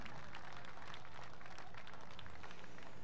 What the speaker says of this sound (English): one more round of applause for your high school girls all-stars